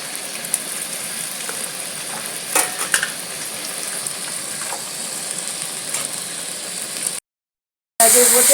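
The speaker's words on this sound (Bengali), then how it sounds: "ভালো করে কষে দেবো যতক্ষণ বন্ধুরা মশলাটা কষা হচ্ছে" Masala with raw tomato and whole green chillies sautéing in a pan, a steady close sizzle with occasional scraping stirs, cutting out briefly near the end before resuming louder.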